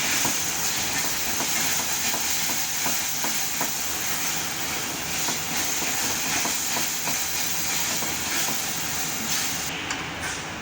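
Mango pulp roasting in a pan for mango sheera gives a steady, fairly quiet hiss throughout, with faint soft scraping clicks and no talking.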